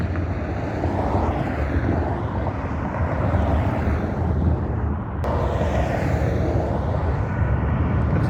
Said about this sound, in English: There's a jet coming in for a landing.